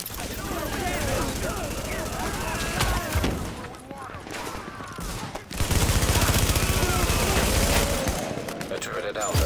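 Dense gunfire from The Division, a third-person shooter, with rapid machine-gun bursts and scattered shots filling most of the span, a brief lull near the middle, then a loud sustained barrage, with voices talking over the shooting.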